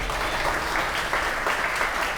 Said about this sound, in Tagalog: At pwede ko ba marinig ang palakpak ng mga excited?